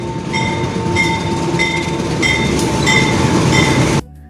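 A train at Banyuwangi railway station in Indonesia rumbles steadily up close, with a sustained mechanical drone, a faint high whine and repeated metallic ticks, cutting off abruptly near the end.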